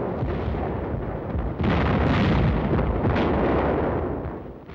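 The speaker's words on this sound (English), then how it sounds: "And tremendous artillery barrages." A heavy artillery barrage at the Anzio beachhead booms and rumbles continuously, loud and dense, swelling into a stronger wave of blasts partway through, with no voices.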